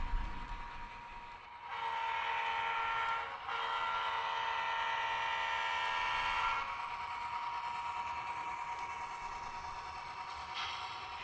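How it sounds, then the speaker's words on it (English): A small ScaleTrains SD40T-2 model locomotive hums steadily along the track with a sustained electric whine and rolling noise, no talking. "Locomotive for this train is the scaletrains SD40T-2."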